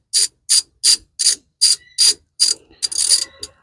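A hand ratchet clicks in brisk, even strokes, about eight crisp bursts close up, while bolts are worked loose under the hood of a 1996 Ford F250 with a 5.0L 302 engine, ending in a quicker rattle of clicks.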